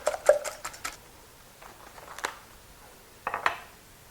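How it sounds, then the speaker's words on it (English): A wire whisk beats eggs for a custard, making a quick run of light metallic ticks against a bowl, then a pause and a second short flurry; fairly quiet and close, with no voices. "Go ahead and beat these together, just using a wire whisk."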